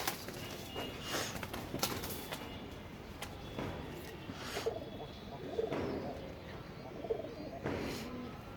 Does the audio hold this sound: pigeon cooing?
yes